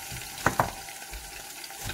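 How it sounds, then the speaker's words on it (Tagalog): Eggplant frying in a pan gives a steady low sizzle with two quick sharp clinks of stirring near the start. "mag-prito ako, guys, nitong talong"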